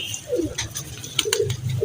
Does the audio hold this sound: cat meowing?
no